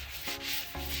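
Wet sanding of car paint on a BMW body panel during prep for base coat, two or three short rhythmic rubbing strokes, close and faint, with no voices.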